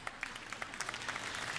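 A jazz show crowd at a big band concert starts clapping, with a few distinct claps at first quickly swelling into fuller applause over a short stretch.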